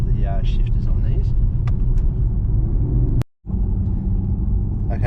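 Nissan Skyline 370GT with its 3.7L V6 pulls hard and shifts up, a loud steady in-cabin engine rumble with a brief sharp dropout at the gear change before the drone resumes, with talk over it.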